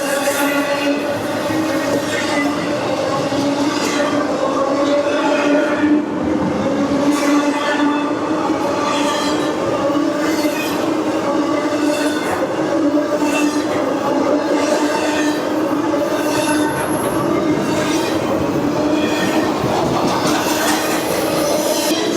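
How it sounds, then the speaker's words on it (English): A freight train rolls past at close range on a line through Madisonville, Kentucky, picking up speed south of town; loud continuous rumble with rhythmic wheel clacks and occasional metallic squeal, sustained throughout without voices. "Well, our train is past the last crossing to the south of town, so it's picking up speed now."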